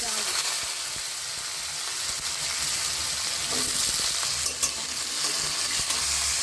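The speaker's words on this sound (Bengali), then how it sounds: "তেলে দিয়ে দেবো কিছু পাঁচফোড়ন" Panch phoron spices crackling in hot oil in a home kitchen, a dense continuous sizzle with scattered sharp pops and occasional stirring, close and steady throughout.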